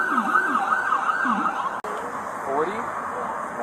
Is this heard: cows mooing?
no